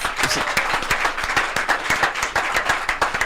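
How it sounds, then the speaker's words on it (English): A studio audience at a Nigerian live broadcast programme claps for itself in a brisk, loud burst of applause, with sharp individual hand claps standing out close to the microphone over the general clatter for the whole few seconds. "Make we clap for ourselves"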